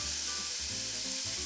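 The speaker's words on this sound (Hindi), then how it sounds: "जैसे ये गरम हो जाए, इसमें हम डालेंगे some finely chopped garlic" A steady, close sizzle of finely chopped garlic frying in hot oil, with a constant hiss and a low bubbling undertone.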